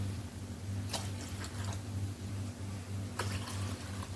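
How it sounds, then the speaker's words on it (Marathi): Water is measured out and poured into a bowl in a kitchen, soft splashing and trickling in a few short bursts over a low steady hum. "ज्या मापाने मी तांदूळ घेतला त्याच मापाने पाणी घेते"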